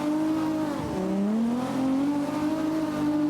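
A fast car in a video game roars at a steady high pitch, dipping briefly and then climbing back up as it accelerates, loud and alone.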